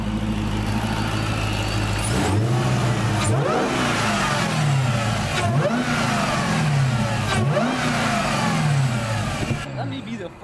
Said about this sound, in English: I'm about to rev it and just listen up.